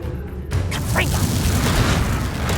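A loud booming blast from the Confringo explosion spell in the game Hogwarts Legacy, a sudden burst that gives way to a sustained rumbling roar with a brief whistling sweep.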